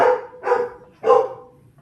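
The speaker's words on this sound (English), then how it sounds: "My dogs are barking" Dogs barking indoors, three separate bark bursts spaced about half a second apart, moderately loud and close, with no talking.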